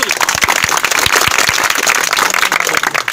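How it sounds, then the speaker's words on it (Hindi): An audience claps for a teacher and the parents of young girls at a school event in India, a dense, loud, sustained round of applause close by, with a few crisp individual claps standing out. "एक बार टीचर के लिए और एक बार इन बच्चों के माँ बाप के लिए ताली बजा दो।"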